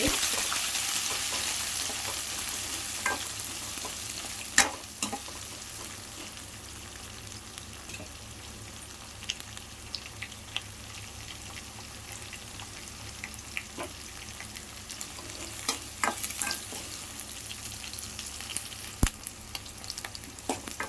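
Potato curry with onions, green chillies and tomato sizzling and frying steadily in a pan, with occasional scraping clicks of stirring throughout, close and continuous.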